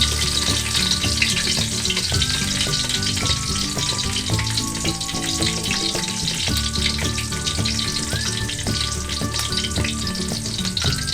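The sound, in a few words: garlic sautéing in oil in a pan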